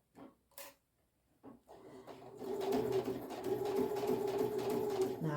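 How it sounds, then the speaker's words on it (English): A sewing machine stitches over a ribbon on a fabric bookmark. A few short taps and starts come first, then a steady close mechanical whirr runs continuously, with no talking. "Now I'm over my ribbon and I'm actually going to backstitch just to make sure that ribbon stays and is secure."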